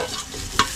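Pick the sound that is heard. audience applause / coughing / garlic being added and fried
garlic being added and fried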